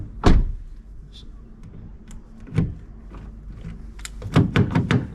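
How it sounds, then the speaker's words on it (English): A key turns in the door lock of a 2014 Volkswagen Golf, giving a few sharp mechanical clicks and thunks spaced apart and then a quick cluster of clacks near the end, close and fairly quiet. "So it turns in the door lock."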